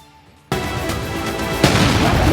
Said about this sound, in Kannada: ಢಮಾರ್ ಅಂತ ಬ್ಲಾಸ್ಟ್, ಬಾಂಬ್ ಬ್ಲಾಸ್ಟ್ ನಂತೆ ಸತ್ತು, ನೋಡ್ತಿದ್ದಂತೆ ಚಿಮ್ಮಿದ ನೀರು